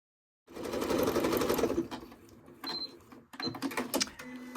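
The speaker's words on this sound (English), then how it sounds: "now we'll just take this to the sewing machine, and I'm going to zigzag around the inside and the outside of all of these letters" A sewing machine runs a zigzag stitch around fabric letters on a Halloween cushion cover, making a fast, dense mechanical whir in close bursts, with a brief pause and then shorter stitching spurts.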